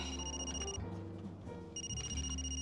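Faint electronic ringing tones sound in two bursts separated by a short gap, soft and somewhat distant against a low hum.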